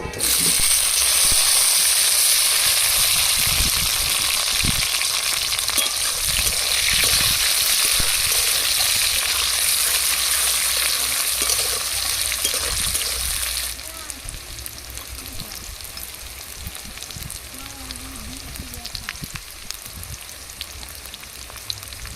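Chopped onion and tomato fry together in hot oil with bay leaf, nigella and dried chili, giving a loud, dense sizzle that settles into a quieter, steady crackle partway through.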